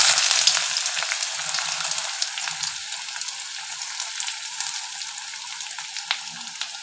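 Onion dropped into hot mustard oil in a wok fries with a steady, close sizzle and crackle that holds the whole time, with no talking.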